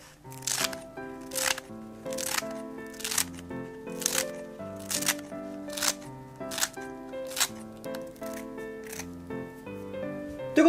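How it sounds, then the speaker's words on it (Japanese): Scissors snip repeatedly through a crisp sheet of nori seaweed, about a dozen sharp cuts in a steady rhythm, close and clear. "こんな感じでハサミで切ってあげるだけで全然大丈夫です"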